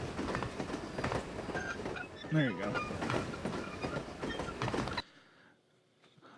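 A train rolls past in the video game No One Lives Forever, a loud rhythmic clatter of wheels with a brief screech, under a short spoken remark, then cuts to quiet.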